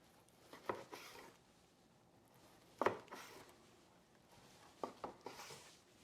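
Knife slicing through tender cooked ribs: a few soft, brief cutting strokes spaced across a quiet stretch, close up, with no talking.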